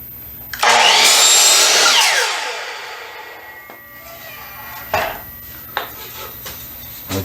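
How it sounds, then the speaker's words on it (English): A miter saw cuts across a line on a piece of trim: one loud close burst of cutting about a second and a half long, then the motor winds down and a few light clunks follow. "Now we'll go ahead and just cut it across that line"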